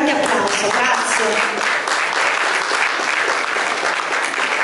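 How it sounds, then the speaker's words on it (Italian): An audience at a cultural event in Palermo's Palazzo Jung breaks into dense, sustained applause, many hands clapping at once in a continuous wash, loud and even throughout, with some voices mixed in. "Un altro grande applauso, grazie."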